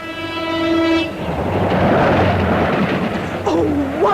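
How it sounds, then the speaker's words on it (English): A train passes along the coast in a radio drama, opening with a loud horn blast that gives way to a steady rumbling roar and clatter of wagons close by, with a voice rising briefly near the end. "Even down by the sea, the trains spoil everything."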